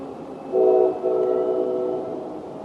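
A CSX train horn blares close and loud, a sustained two-part blast with a brief dip between, as the locomotive approaches along the track.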